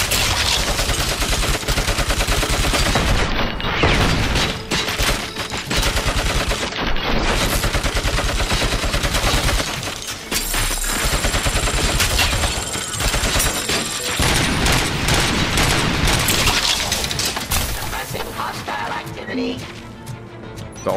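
Heavy machine gun fire roars in a Robocop video game, a dense, continuous stream of loud rapid shots with brief pauses and crashes, someone talking over it.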